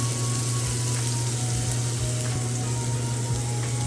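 Garlic sizzles in a hot pan at the start of chicken fried rice, a steady, close, continuous frying hiss with a low hum underneath and no talking.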